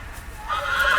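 A horse whinnies amid a game's ambient soundscape set in the Game of Thrones world, the call rising and sustaining loudly in the second half over a low rumbling background.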